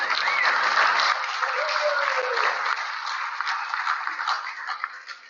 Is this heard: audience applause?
yes